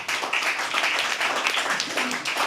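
An audience at a poetry open mic claps and applauds, a dense patter of hands that holds steady throughout, near and fairly loud.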